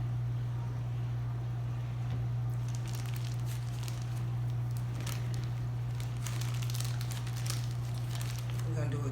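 A plastic piping bag filled with warm churro dough is squeezed and crinkled, giving soft, irregular crackling over a steady low hum.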